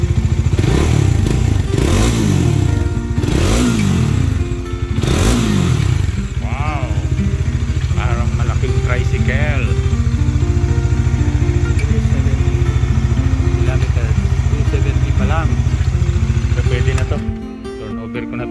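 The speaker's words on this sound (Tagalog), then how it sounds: "ZH2 ni Tito Ed Vlog rev rev natin" A Kawasaki ZH2 motorcycle engine revs loudly and up close, with three rising and falling throttle blips followed by a sustained high-pitched roar and a sharp drop at the end.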